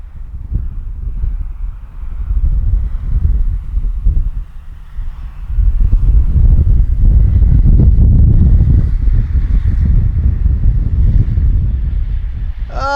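Wind buffets the microphone outdoors during an RC flight with an FMS Kingfisher on a 2700 mAh 3S battery, a steady low roar that swells louder and rougher about halfway through with no voices over it.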